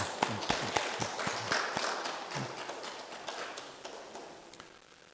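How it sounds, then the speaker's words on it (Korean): A church congregation claps in welcome during a Korean worship service, sharp individual hand claps, loud at first, then thinning and fading over about five seconds. "우리 박수로 환영합시다."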